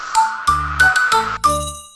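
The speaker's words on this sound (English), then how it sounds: "The bell on the bus goes ding" A bright bell dings in a cartoon nursery rhyme about a bus on Halloween, several separate clear rings, some long and ringing, with a tuned backing beneath, loud and close.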